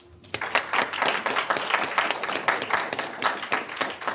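Audience applause for a lecturer after a talk on economic reforms: sustained, dense clapping from a large crowd that starts abruptly and holds steady at full strength throughout.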